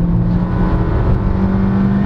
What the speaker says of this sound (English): The engine will scream, but it's fine.